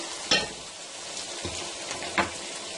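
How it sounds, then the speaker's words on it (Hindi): Tomatoes are added to fried keema mince in a pan, with a low continuous sizzle and three brief scraping knocks of a spoon on the pan, close but fairly quiet with no speech. "अब हम इसमें टमाटर डाल देते हैं"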